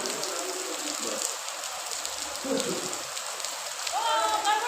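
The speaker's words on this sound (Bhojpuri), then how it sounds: "बलरामपुर में बारिश हो रही है।" Rain falls in Balrampur, a soft steady patter and hiss of drops on surfaces that runs throughout, with faint background sounds and a brief tonal chirp near the end.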